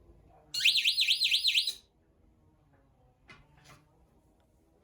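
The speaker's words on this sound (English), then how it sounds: "that's the siren. It's super loud." A piercing, warbling alarm siren driven by a relay blares for about a second, then stops, leaving a quiet room with a few faint clicks.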